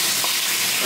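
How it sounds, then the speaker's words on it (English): Meat gets a hard sear in a hot, lightly oiled pan, giving a loud, dense, continuous sizzle and hiss up close for under a second, with no talking. "That's a hard sear."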